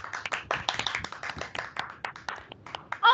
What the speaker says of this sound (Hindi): जोरदार तालियां हो जाए आदित्य के लिए